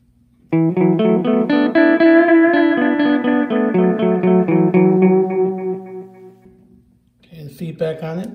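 Electric guitar through a Donner Yellow Fall delay pedal with the echo setting changed, a loud run of ringing notes and chords trailing off into repeating echoes, followed by a short burst of talking.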